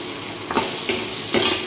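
Capsicum and onion stir-fried for chili chicken, a steady sizzle with a few louder scraping stirs of the spatula through the pan, close and with no voices.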